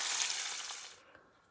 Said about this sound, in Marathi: आता याच्यामध्ये गरजेनुसार पाणी घालायचं आहे।